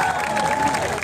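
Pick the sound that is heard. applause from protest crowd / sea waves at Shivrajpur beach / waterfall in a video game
applause from protest crowd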